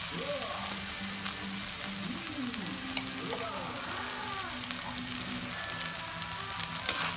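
Sliced snake gourd fries in a pan with a steady close sizzle while a utensil stirs and scrapes it, leaving a few squeaky, sliding tones over the constant crackle and no speech.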